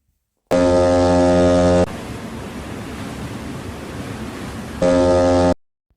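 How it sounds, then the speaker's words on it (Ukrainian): A deep ship horn blasts loudly, gives way to a wash of ocean waves and wind, then sounds again before cutting off. "Так, це корабель."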